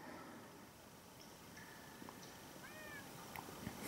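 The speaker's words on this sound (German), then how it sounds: "Katzen?" A cat meows in the video game Minecraft Story Mode, a couple of short rising-falling cries near the end over a steady game background.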